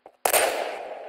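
A loud burst of video-game gunfire as parked vehicles are blown apart, one sharp crack followed by a dense, sustained roar of explosion and debris that slowly fades.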